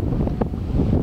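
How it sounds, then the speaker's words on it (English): Steady wind buffeting the microphone outdoors at a lake, a constant low rumble with gusty swells and no voices. "it's very windy today"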